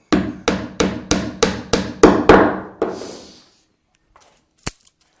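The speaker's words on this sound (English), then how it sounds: "Sometimes the hammer plays havoc with the microphone" Eight sharp hammer blows ring out in a fast, even rhythm while planking a boat hull, then silence, followed by one more isolated strike and a faint tap.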